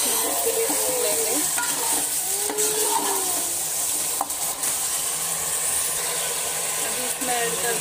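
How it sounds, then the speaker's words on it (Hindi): Chicken pulao sautés in a pan with a loud, continuous sizzle and frying hiss. A spoon stirs and scrapes through it now and then, close by. "अच्छे से 5-10 मिनट के लिए भून लेंगे।"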